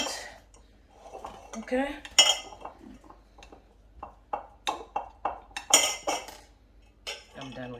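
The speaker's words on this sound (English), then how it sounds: "Then I'm going to smash them. I'm going to use, I'm just going to use a spoon." Boiled eggs being smashed with a metal spoon in a bowl, irregular close clinks and taps of spoon on dish, some in quick clusters, with a brief spoken word in between.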